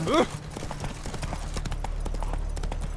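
The horse Roach walks in The Witcher 3, its hooves clip-clopping in a steady, close rhythm. A voice speaks briefly at the start.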